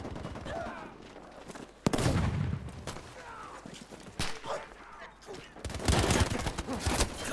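Assault rifle gunfire in Battlefield V, loud bursts of rapid automatic shots at close range separated by short gaps, with distant battle noise and a person talking in between.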